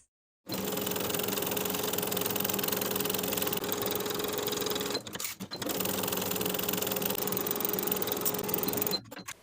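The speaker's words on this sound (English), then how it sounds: "Sew from the outer edge to the point, pivot at the point to come back to the opposite outer edge with a 1/2 inch seam allowance" A sewing machine runs steadily as it stitches fabric side tie pieces, pausing briefly midway at the pivot and then resuming its even mechanical whir before stopping.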